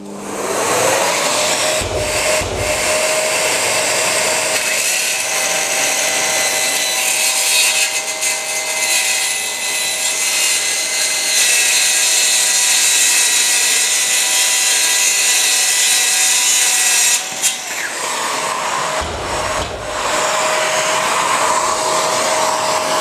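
A jigsaw cuts through dry screed flooring board with a vacuum running alongside, a loud continuous buzzing whine that holds steady for most of the stretch, drops out briefly, then resumes, with short knocks at the start and end.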